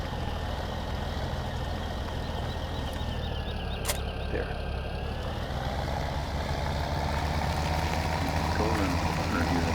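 A Case 1455 tractor engine in Farming Simulator 2017 with a tipper trailer, a steady low diesel drone with a faint whine drifting in pitch, running continuously while a voice speaks briefly.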